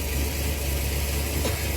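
A Ford Galaxie engine idles while warming up with the choke operating, producing a steady, even low rumble that stays close and constant throughout, with no talk.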